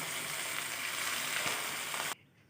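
Chopped onion and garlic frying in hot oil with salt and turmeric added, a loud, dense, steady sizzle close up that cuts off abruptly near the end, leaving quiet room tone; no talking.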